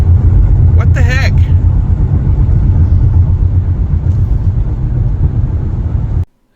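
Steady loud low rumble of a Hyundai Ioniq 5's tires rolling over rumble strips cut into the road, sustained throughout and stopping abruptly near the end, with a brief rising tonal chirp early on.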